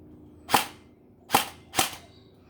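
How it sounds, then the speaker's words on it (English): An Alpha King AK105 gel blaster fires gel balls in three sharp, snappy pops, close and loud, spaced unevenly about a second apart with quiet between. "I'm actually going to shoot myself in the hand at this distance"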